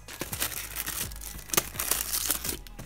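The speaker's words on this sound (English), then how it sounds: "We will get knife, cut that open." Knife slicing through the plastic packaging of a seven-inch assorted floral firework shell pack, a close run of crinkling, tearing and crunching bursts with sharp scrapes in between.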